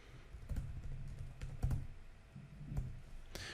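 Computer keyboard typing while writing a JavaScript variable, with quiet scattered keystrokes in short irregular clusters and soft tapping that comes close up in a quiet room.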